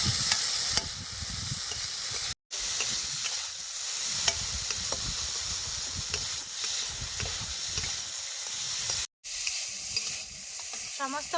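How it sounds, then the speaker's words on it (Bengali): Potatoes sauté with salt, turmeric and spices in a pan, a steady close sizzle and hiss with scraping stirs throughout, broken by two brief silent gaps, in a rustic village kitchen setting. "মশলাপাতি দিয়ে আলু ভালো মতো কষায় নিছি"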